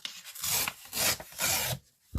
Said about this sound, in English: I'm going to cut that down with the ruler.